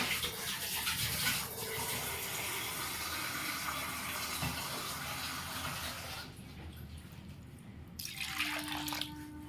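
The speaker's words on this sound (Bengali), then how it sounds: "আমি এটাকে আবার ফেলে জল দিয়ে আবার ধুচ্ছি" Running water pours and splashes steadily while something is rinsed clean, a close, continuous flow that briefly eases before resuming.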